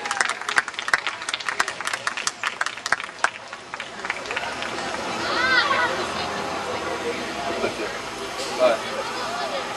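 An audience at a student speak-out event claps for the first speaker, with a burst of sharp, close claps that thins into scattered clapping and crowd murmur, followed by a voice speaking over the room.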